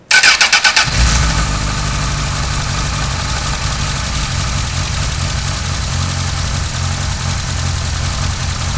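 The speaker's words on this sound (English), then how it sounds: "we're going to go ahead and start the bike" A motorcycle engine cranks with a quick burst of starter pulses, then catches and settles into a steady, loud, close idle that runs without a break, during an oil change.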